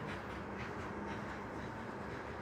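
Train cars rolling past on the rails, a loud continuous rumble with steady rhythmic clatter, close by and unbroken, with no talking.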